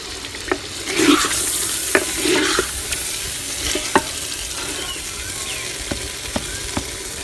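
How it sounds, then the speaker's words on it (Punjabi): Chicken roasting in masala in a village kitchen pan, a steady frying sizzle with a spoon stirring and scraping and several sharp knocks against the pot, loud and close, no talk. "ਹੁਣ ਇਸ ਮਸਾਲੇ 'ਚ ਚਿਕਨ ਨੂੰ ਅੱਛੀ ਤਰ੍ਹਾਂ ਭੁੰਨਾਂਗੇ"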